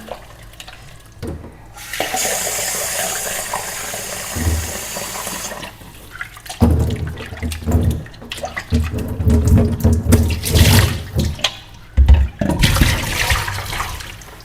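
Tap water runs steadily into a metal pot being rinsed after ghee making, with cold water added, gushing and splashing loudly in bursts with clattering handling, close up.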